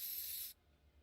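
A short, sharp aerosol hiss as a spray paint tag is sprayed onto the floor in a competitive esports video game match. The burst lasts about half a second, then cuts off into near silence.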